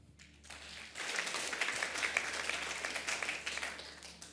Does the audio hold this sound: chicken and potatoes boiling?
no